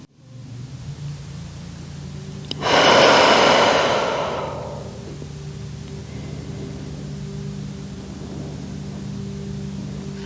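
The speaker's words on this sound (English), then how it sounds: "take some nice deep breaths in and beautiful breaths out" One long, deep breath pushed out during a yoga posture for sciatica and lower back pain rises clearly for about two seconds, then fades back into a steady low room hum, with no talking.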